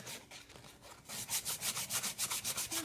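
Coarse 80-grit sandpaper rubbed over a wooden tool handle, starting as a soft scuff and then settling into a quick, steady back-and-forth rasp of close strokes, with no talking.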